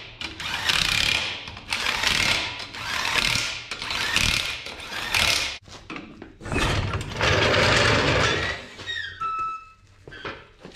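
A wrench tightens the wheel nuts on a Toyota Hilux by hand, giving loud, close ratcheting clicks in several repeated bursts with brief pauses between them and no talking.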